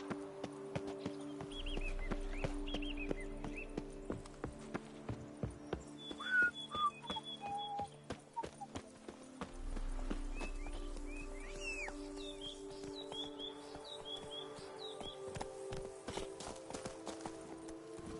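Roach, the horse from the game Witcher 3, gallops with fast, rhythmic hoofbeats in the foreground over a low rumble, while birds chirp faintly in the background.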